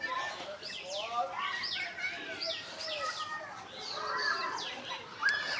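Pigeons in a home loft give repeated chirps and calls, a busy scatter of bird sounds at moderate volume with faint background voices.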